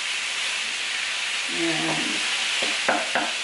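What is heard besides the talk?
breaking up ground meat browning in a pan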